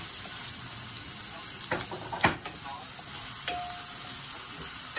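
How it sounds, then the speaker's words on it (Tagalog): Onion, ginger and garlic sauté in a pan for chicken tinola, a quiet, steady sizzle with a few short scraping stir strokes in the middle, close but faint, with no talking. "Gisayin lang natin tong onion, ginger at garlic"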